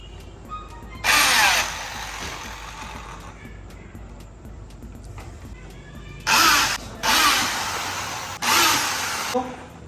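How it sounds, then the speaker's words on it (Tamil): Power drill driving screws into a tyre, several loud whirring bursts of a second or so each, one early and three later, over a quiet background with faint clicks between. "ஸோ 31வது ஸ்க்ரூ ஏற்ற போகிறோம்."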